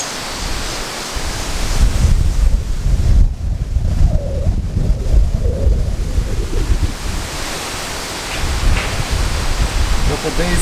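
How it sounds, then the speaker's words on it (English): Strong wind blusters across the microphone on a windy day outdoors, a loud broadband roar that swells and eases in gusts and fills the whole stretch with no clear voices. "See, we're having pretty windy days."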